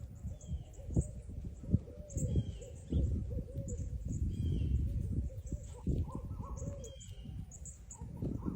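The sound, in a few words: hoot owl hooting during a snowstorm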